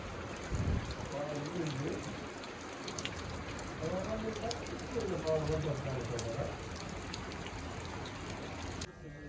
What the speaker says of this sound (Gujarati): અમારે આવો વરસાદ આજ આવ્યો જો